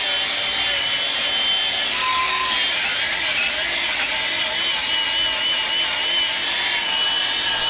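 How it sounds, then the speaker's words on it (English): A small grinder fitted with a wire brush scrubs parts of a John Deere 7500 forage chopper being readied for corn season, a steady, loud, gritty whine that runs without a break and has no talk over it. "A little wire grinder on the grinder."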